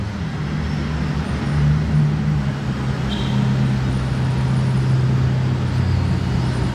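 A Lamborghini-style LT Spider supercar rolls along in a convoy on a city street at night, giving a steady, fairly loud low engine and road rumble with passing traffic noise and no clear revving.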